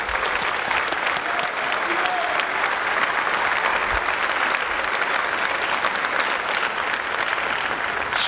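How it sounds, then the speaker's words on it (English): An audience at a senior athletic awards ceremony applauds student athletes with a steady, dense wash of clapping that carries evenly throughout, close and full, with faint crowd murmur underneath. "So how about a round of applause for our student athletes?"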